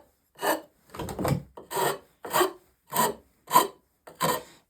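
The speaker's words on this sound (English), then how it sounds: "So rasps do work." Seven separate rasp strokes scrape across wood while a foot stool tenon is shaped, each a short rough rasping burst followed by a clear pause, close and alone.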